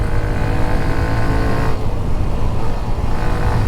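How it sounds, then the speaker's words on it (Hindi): A Hero Xtreme 125R motorcycle engine held at full throttle, a steady loud droning roar that builds gradually while riding, close up and without talk. "मैंने पूरा एक्सीलेटर मरोड़ दिया तो स्लोली बढ़ेगी, बट भाग अच्छी रही है।"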